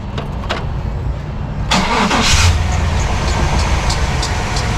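A new starter cranks a 1998 Chevy 350 truck engine, a short grinding crank that catches and settles into a close, steady idle rumble.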